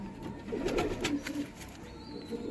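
A Madras pigeon of the gola line in a sale loft gives a short burst of low burbling coos up close, then settles into quieter background noise with a faint thin whistle near the end.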